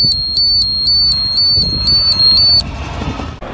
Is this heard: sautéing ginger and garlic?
no